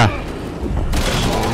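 Gunfire in the video game Resident Evil 6 opens with a sharp burst, and a dense, crackling barrage follows through the rest of the short moment.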